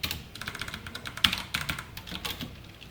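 Code is typed on a computer keyboard in a quick, steady run of close key clicks with one sharper stroke, with no voice over it.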